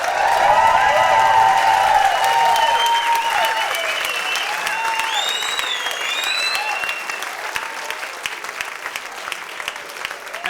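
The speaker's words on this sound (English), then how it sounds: "And the crowd goes wild." Audience at a live folk concert in a tavern venue applauding and cheering loudly, sustained clapping with whoops and shouts that gradually thin out over ten seconds.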